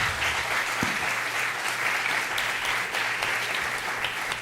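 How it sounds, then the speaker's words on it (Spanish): Audience applause fills a hall at the close of a football-and-power discussion panel at a Peruvian football film festival, a steady, dense clapping sustained throughout at close range with no talk over it. "Por favor, un fuerte aplauso para los tres."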